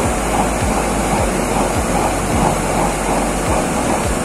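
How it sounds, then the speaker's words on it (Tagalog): Steady rush of water running from an open tap into a tank, a loud continuous gushing wash with no pauses and nobody talking. "nakabukas pa rin yung ating gripo"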